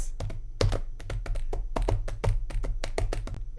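Quick hand taps on a hard surface imitate galloping non-human footsteps, coming as an uneven rhythmic patter of close, dry knocks in irregular clusters over about four seconds.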